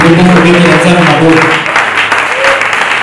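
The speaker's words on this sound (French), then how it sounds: "Tu peux continuer à acclamer pour Jésus" A church audience applauds steadily and cheers for Jesus, dense loud clapping running the whole time with voices mixed in underneath.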